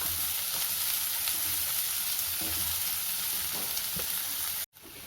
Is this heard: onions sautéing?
yes